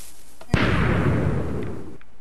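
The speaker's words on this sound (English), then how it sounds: "I think I'm going to shoot my cannon." A cannon in a video game fires once with a sudden sharp crack, then a broad, rumbling boom that fades away slowly over about a second and a half.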